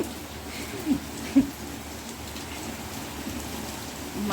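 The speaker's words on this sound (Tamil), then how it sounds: "பெரிய மழையாக வருது." Heavy rain pours steadily, a dense continuous hiss with a couple of brief louder knocks early on, and no voices.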